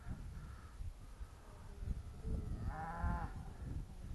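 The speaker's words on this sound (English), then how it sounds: "seem to have tied this cow up for some reason" A cow tied up on a rope calls out with a low, drawn-out moo over steady outdoor rumble and wind, heard at a moderate distance, with no talking.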